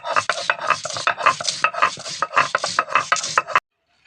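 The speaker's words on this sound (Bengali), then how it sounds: "আমি বেটে নিচ্ছি কাঁচা লঙ্কা, আদা কুচি, গোটা জিরা শাকে দেওয়ার জন্যে" Green chili, chopped ginger and whole cumin are ground by hand on a stone, a close series of rhythmic scraping, rubbing strokes about twice per second that stops abruptly.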